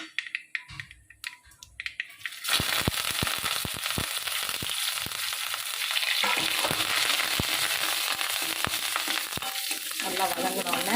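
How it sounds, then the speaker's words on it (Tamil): Shallots and curry leaves dropped into hot oil after popped mustard seeds for an eggplant curry: a quiet start with a few clinks, then a sudden loud crackling sizzle with rapid pops that settles into steady frying. "கருவேப்பிலை போட்டு நல்லா தாளித்து விட்டுக்கோங்க"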